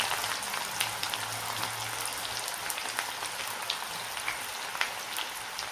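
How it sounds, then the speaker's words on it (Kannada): Sliced onion deep frying in hot oil, a steady dense crackle and hiss with scattered sharper pops, continuous and close throughout. "ಇವಾಗ ಒಂದು ಕುಯ್ದಿರೋ ಒಂದು ಈರುಳ್ಳಿನ ತೊಗೊಂಡು ಬಿಸಿ ಎಣ್ಣೆಯಲ್ಲಿ ಫ್ರೈ ಮಾಡಿ"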